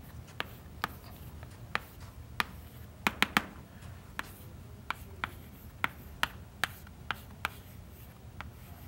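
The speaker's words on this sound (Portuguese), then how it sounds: "eu vou escrever aqui" Chalk or marker tapping and scratching on a board while numbers are written, heard as sharp, regularly spaced clicks, with a quick cluster in the middle, faint and without talk.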